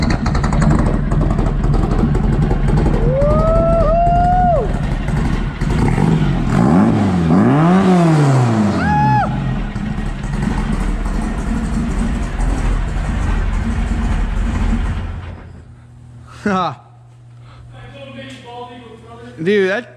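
A car engine with a new Slug Shark exhaust, MP carburetor and custom billet 4-barrel revs loud and raspy, rising and falling several times before it settles to a quieter idle with short blips at the end.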